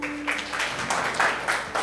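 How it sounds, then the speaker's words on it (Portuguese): Clapping from a church congregation for the worship band, a short burst of broadband applause that swells in waves over under two seconds, moderately loud with no speech. "Salve de palmas pro louvor."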